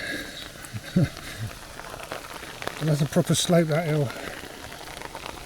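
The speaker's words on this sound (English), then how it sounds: "Well, that's some proper rain." Steady heavy rain hisses throughout on a hike along the Mendip Way, with someone talking over it in the foreground.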